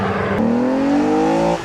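An Aston Martin DB9's V12 engine in sport mode revs hard. Its exhaust note climbs steadily in pitch over a second or so, loud and close, before easing off.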